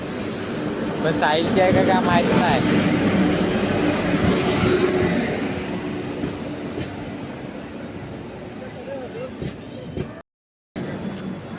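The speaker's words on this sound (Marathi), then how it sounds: "बघा ट्रेन आले" A train rumbles in with rhythmic rail clatter and a squealing tone, loud at first then easing, while people talk nearby.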